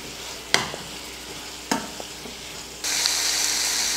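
Onion, tomato and grated coconut sautéing in a pan for a Tamil kola fish curry, with two sharp clanks of a stirring spoon over a low steady sizzle that swells louder near the end.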